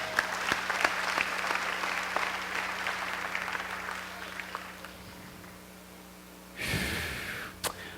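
A church congregation applauds and cheers the Lord during a Pentecost-season worship service, a dense wash of clapping and crowd noise that fades toward the end before a brief renewed burst.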